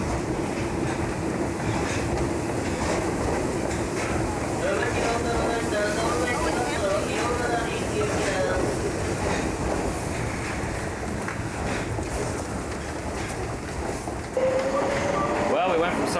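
Train arriving and running at a busy Japanese station in 1988, a continuous rolling rumble with rhythmic wheel clatter and squeals, close and steady, with people talking over it.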